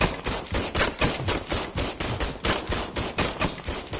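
Rapid gunfire at a shooting range in the video game Robocop: Rogue City, a dense stream of loud, evenly paced shots cracking out one after another without a break for about four seconds.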